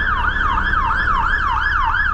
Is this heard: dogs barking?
no